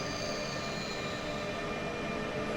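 Train rumbling along the Semmeringbahn in the Train Simulator game, a steady, dense roar of wheels and engine with a faint high squeal, continuous and close.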